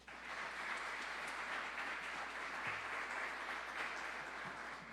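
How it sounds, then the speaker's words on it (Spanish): A congregation applauds in church, a dense, even wash of many hands clapping that holds steady throughout at moderate level, without talk. "Denle un aplauso al Señor por ello."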